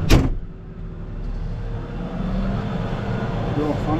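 A farm vehicle drives home from the field with a steady low engine rumble that continues throughout, nearby, after a brief knock at the start; a voice speaks over it.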